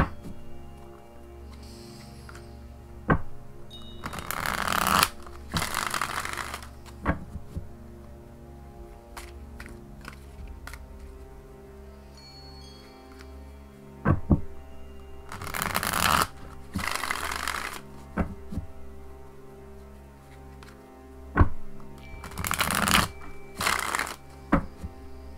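Tarot cards are shuffled in three loud, brisk bursts spread across a quiet stretch, with soft rubbing and small ticks in between.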